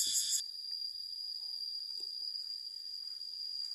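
Cicadas in tall trees on a forest walk give a steady, high-pitched buzzing drone that runs through the whole stretch, with a louder, denser burst of insect noise at the very start.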